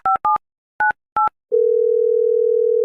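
A phone being dialed gives four short touch-tone beeps in an uneven rhythm, then a steady, loud calling tone that holds on without a break.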